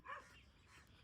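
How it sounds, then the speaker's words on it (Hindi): Street dogs bark in a brief burst at a moderate distance, one short sharp yelp followed by fainter canine sounds that trail off quietly. "यहाँ और भी बहुत से बच्चे हैं जो बेचारे भौंक रहे हैं।"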